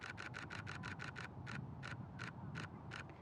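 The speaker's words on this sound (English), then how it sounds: "So let's go ahead and shoot the Nikon D7100." A Nikon D7100 camera shutter fires a rapid continuous burst of about eight crisp clicks, then slows to a few spaced clicks as the buffer fills, close and clear over faint background hiss.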